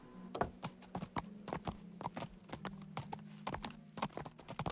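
Rhythmic clip-clop of horse hooves trotting at a steady pace in the video game Kingdom Come: Deliverance, fairly close, over a low constant hum.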